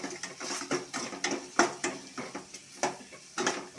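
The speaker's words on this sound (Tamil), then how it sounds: "லைட்டாக வதக்கணுங்க." A spoon stirs and sautés roadside-style mushroom masala in a pan, giving repeated scraping and clinking knocks at an uneven rhythm over a light sizzle, close by with no talking.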